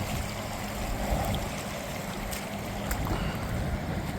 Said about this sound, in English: This is the water coming in from my food forest terrace